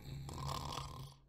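A single rumbling snore sounds close and moderately loud, a rough drawn-in breath that swells and fades over about a second, with no talk over it.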